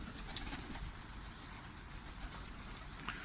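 Faint pigeons around a new coop in Şanlıurfa coo softly in the distance over a low, steady outdoor hiss, with an occasional light chirp.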